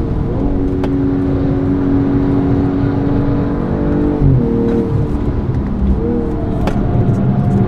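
A BMW M240i xDrive is driven hard on a track, its engine droning steadily under load with shifting pitch and a brief change in tone midway, close and continuous with no talk.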